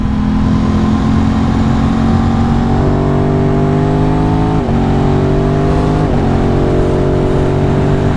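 A motorcycle with a quickshifter accelerates hard, its engine note climbing loud and close, then dropping briefly at each rapid upshift before rising again.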